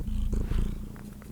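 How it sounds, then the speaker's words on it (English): A pet cat purrs close to the microphone, a low continuous rumbling throb with faint rustling above it. "I'm sorry if you don't like his purring"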